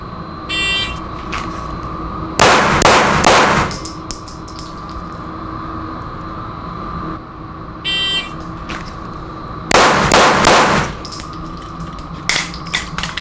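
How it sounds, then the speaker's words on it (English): A pistol fires during a primary-hand-only drill at a range. Each of two strings opens with a short electronic beep and follows with a quick cluster of loud, sharp shots. "drawing 3 shots on target"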